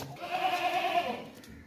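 A pregnant goat gives a single close, clear bleat lasting about a second, with no talk around it.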